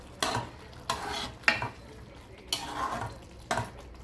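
A boiling semolina mixture is stirred in a pot, giving about five separate scraping, swishing strokes spaced roughly a second apart over a low bubbling simmer, close and moderately loud, with no talking.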